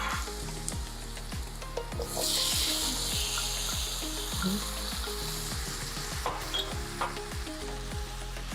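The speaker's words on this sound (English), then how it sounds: "I'll now add my tomatoes so that they simmer and they get soft" Tomatoes sizzle and simmer in a hot pan, a loud, steady frying hiss broken by repeated scraping stir strokes in a regular rhythm, close up with no talking.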